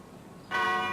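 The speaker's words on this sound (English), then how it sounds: "The bell that rings today at St. Michael's and All Angels in Christchurch actually came with the settlers in one of the first 4 ships" The church bell of St. Michael's and All Angels in Christchurch, brought by early settlers, strikes once after a quiet moment and rings out with a clear, sustained metallic tone.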